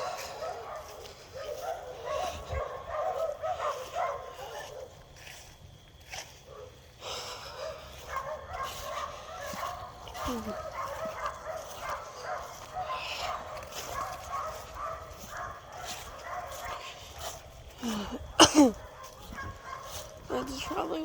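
Several neighborhood dogs bark and yip on and off outdoors during a late-November nature walk, heard at a moderate distance over steady background ambience, with a sharper burst near the end.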